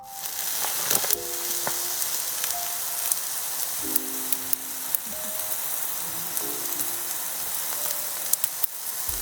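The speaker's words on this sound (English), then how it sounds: "I got my steak on" A steak sizzling on a camp stove at a mountaintop campsite, a steady close crackle and hiss with occasional sharper pops and a few faint tonal sounds in the background.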